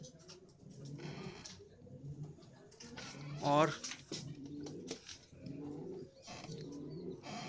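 Racing homer pigeons in a Kolkata loft give repeated pulsing coos in rhythmic bursts, fairly close, while someone speaks briefly over them midway.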